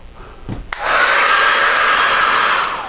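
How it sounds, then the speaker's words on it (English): A hair dryer switches on after a couple of faint knocks and a click, then blows loudly and steadily close by. "I think I'm going to get my hairdryer out."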